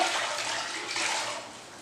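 Water splashes and trickles onto concrete to dampen it during a broken tile repair, a steady hissing wash close by, alone without talk.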